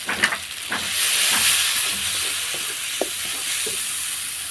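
Spices sizzling in hot oil in a pan during home cooking, a steady close hiss and crackle with occasional soft stirring clicks and no voices over it.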